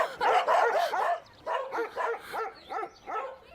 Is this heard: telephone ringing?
no